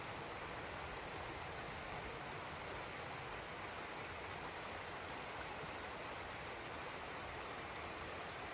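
Steady rushing of flowing water from a stream on the Appalachian Trail in North Carolina, continuous and even throughout, moderately distant with no other sounds.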